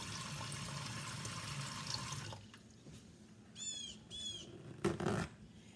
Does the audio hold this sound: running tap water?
yes